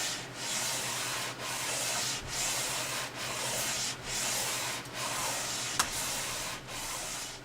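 Steady back-and-forth sanding strokes of a 16-inch radius block across an Ibanez guitar fretboard, loud and close, each pass a broad rasping rub separated by brief pauses in an even rhythm, with no voices.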